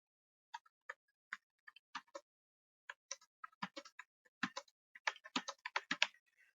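Keys clatter on a computer keyboard, sparse isolated taps at first, then quickening into denser bursts of clicks, close and clear with no talking.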